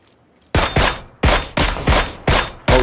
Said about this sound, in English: Oh, he shot him.